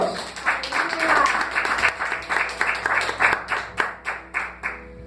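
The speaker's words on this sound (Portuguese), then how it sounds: "dê uma salva de palmas para o nosso Deus" A church congregation claps together in a lively rhythmic burst of applause, loud and close, with cheering voices mixed in before the claps fade into a few slower separate beats.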